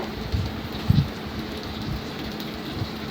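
Pointed gourd (potol) sizzles in oil in a frying pan, a dense, steady crackle of frying with a few soft knocks as it is stirred.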